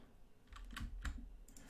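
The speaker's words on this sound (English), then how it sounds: "I'm not typing quick." A few quiet, unhurried keystrokes on a computer keyboard as someone codes, short separated clicks in an otherwise still room.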